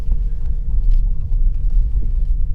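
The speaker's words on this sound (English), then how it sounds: "Oh, you can hear a little bit of an electric hum. It's quite a satisfying whir." Low electric motor hum and road rumble inside a Hyundai Ioniq EV while driving, a steady soft whir under a faint constant tone, with no talking.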